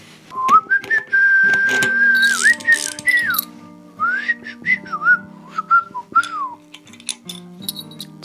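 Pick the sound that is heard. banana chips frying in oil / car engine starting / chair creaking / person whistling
person whistling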